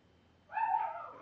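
A pet dog gives a single short, tonal yelp or whine indoors, moderately loud and rising out of quiet room tone partway through, with no talking.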